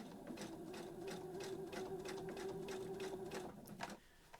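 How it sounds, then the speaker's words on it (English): A sewing machine stitches along the handle of a fabric storage caddy, a steady close whirring run of stitches that stops near the end. "Carry on stitching on that line."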